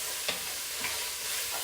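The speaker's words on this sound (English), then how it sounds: "just gonna cook those until the onions are translucent a little bit" Onions cooking in a pan for Southern chicken bog, a steady soft sizzle with a couple of faint scraping stirs, quiet and alone.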